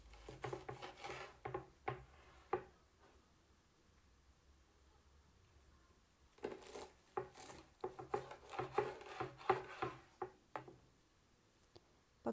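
A knife cuts a crisp baked pastry into four pieces, with bursts of close crunching, crackling and tapping on a board separated by a quiet gap in the middle.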